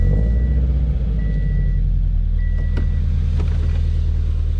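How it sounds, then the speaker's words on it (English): A Subaru BRZ sits idling after being started, its steady low engine rumble loud and continuous near the mic, with a few faint high tones over it. "I'm actually going to go ahead and get the BRZ started, get it running."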